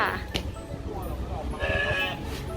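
Several sheep bleat in short, wavering calls at a sheep farm in Nakhon Nayok, loud and close, with people talking among them.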